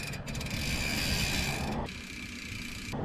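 Rear hub of a Yeti SB115 mountain bike with a 54-tooth ratchet, freewheeling as a fast continuous buzz of fine clicks, close and steady, dropping briefly in pitch partway through before rising again.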